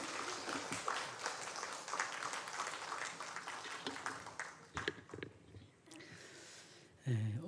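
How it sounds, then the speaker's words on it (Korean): Church congregation clapping during a Sunday morning service to welcome the guest preacher, a dense, steady wash of applause through most of the clip that thins out near the end, ending with a brief low thump. "여러분이 좀 뜨거운 박수로 환영해 주시면 좋겠습니다"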